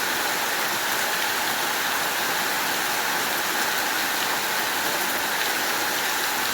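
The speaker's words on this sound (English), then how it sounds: "It's been raining hard too." Heavy rain pours steadily onto a roof, a dense continuous hiss with no pauses, loud and close throughout.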